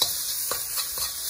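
Garlic and ginger sizzle in hot oil in a pan while shrimp and broccoli are being cooked, a continuous close hiss with a few soft stirring scrapes.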